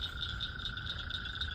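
Frogs croak close by in a steady run of repeated calls with a bright, ringing pulse, a constant tone humming under the pulsing chorus.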